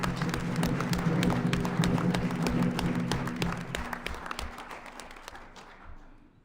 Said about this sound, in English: a big round of applause for all of our legislators